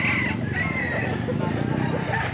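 Bull stag gamecocks crow repeatedly amid the noisy bustle of a poultry market in Pampanga, several roosters calling over a dense background of crowd murmur.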